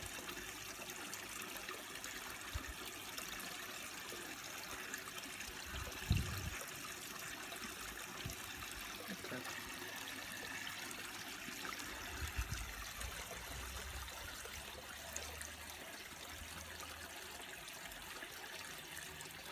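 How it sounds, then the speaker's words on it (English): Water runs steadily through the filter system of an outdoor koi pond, a constant soft rushing and trickling heard from close by with a couple of faint knocks. "Plenty of flow coming in through this pond, through the filter system on that side, and doing the main filtration."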